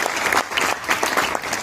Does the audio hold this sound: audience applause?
yes